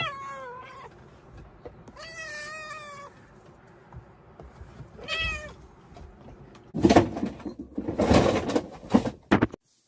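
A house cat meows several times, long drawn-out wavering cries at close range spaced over the first half, followed by loud clattering and rustling bangs; no one speaks.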